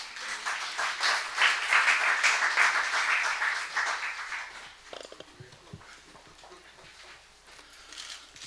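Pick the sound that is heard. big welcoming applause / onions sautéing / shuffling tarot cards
big welcoming applause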